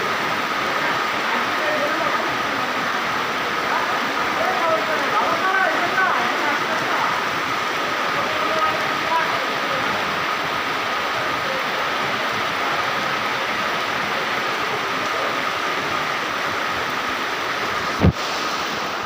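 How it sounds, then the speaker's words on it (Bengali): Heavy rain pours steadily during a storm in Narayanganj, a dense continuous wash of noise at constant loudness, with one sharp knock near the end. "অনেক ঝড়, অনেক বৃষ্টি চলছে।"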